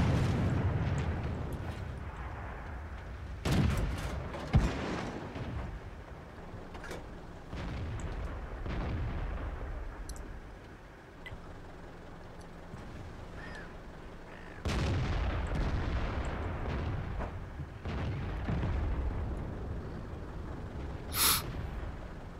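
Artillery shelling in the World of Tanks video game: heavy booms and blasts recur through the scene, with sharp impacts near the start and midway and a steady rumble of battle between them.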